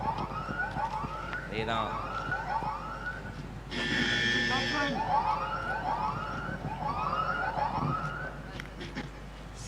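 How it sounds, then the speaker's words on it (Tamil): A warbling electronic siren at a local cricket match signals a no ball, looping steadily over crowd noise with a brief voice in the middle. "சைரன் ஒலி வந்து விட்டது"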